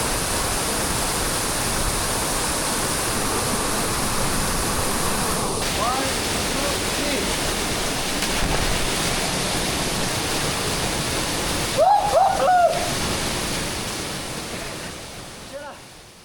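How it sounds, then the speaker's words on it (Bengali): Steady, broadband rush of falling water from a wild waterfall in Bandarban, swollen after rain, roaring continuously, with a brief louder disturbance partway through. "এরকম একটা ওয়াইল্ড ঝর্ণা জাস্ট আমেজিং এই জায়গাটা"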